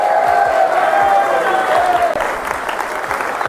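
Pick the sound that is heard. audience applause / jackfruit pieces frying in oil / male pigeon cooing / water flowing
audience applause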